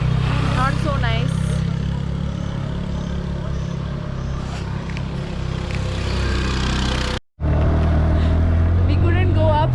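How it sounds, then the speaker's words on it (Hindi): Steady road traffic on a hill road near Chaar Dukaan in Landour, Mussoorie, with engines droning continuously close by, a brief cutout near the end, and voices talking over the traffic noise. "there are cars passing continuously from this patch, and that's not so nice"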